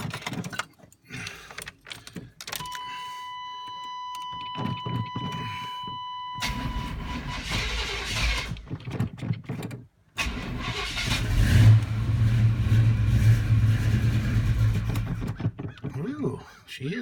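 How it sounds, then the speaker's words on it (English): A cold start of a Yukon truck with a 305 or 350 V8: a cranking attempt, then the engine catches and runs loud and rough, close by, with people talking around it. "We're going to do a cold start on it"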